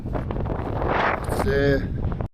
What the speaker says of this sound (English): it is windier and the wind has changed direction